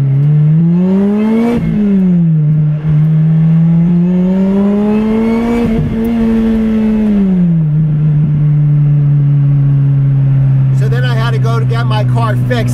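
A Lotus Exige S revs hard, its exhaust note climbing and falling through several bursts of acceleration, loud and close throughout.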